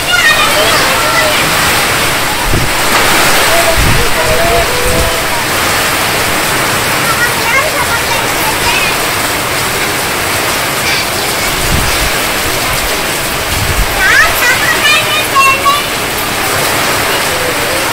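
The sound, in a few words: heavy rain with storm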